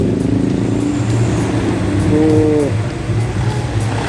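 Car passing close by on a road, a steady loud engine and tyre roar that swells and fades over a few seconds, with voices talking over it.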